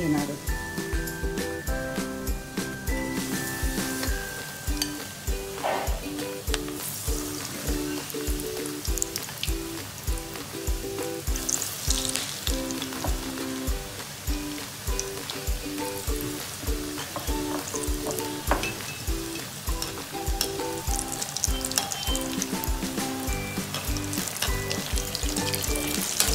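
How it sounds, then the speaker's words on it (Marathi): Chili peppers dipped in besan (gram flour) batter fry in hot oil, giving a busy, continuous sizzle and crackle with steady popping throughout, while someone talks over it. "तर आता आपण एक एक मिरची बेसनचे जे आपण बॅटर तयार केले त्याच्यामध्ये अशा प्रकारे घोलून आपण ती मस्त तेलामध्ये आपण"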